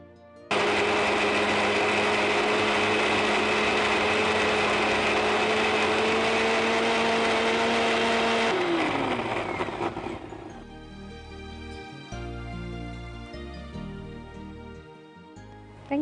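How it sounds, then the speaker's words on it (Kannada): A mixer grinder grinding a masala mixture, a loud continuous mechanical whirring with a steady tone that slows and winds down about halfway through, then gives way to quieter background noise. "ಈಗ ಅದನ್ನ ರುಬ್ಕೊಂಬ"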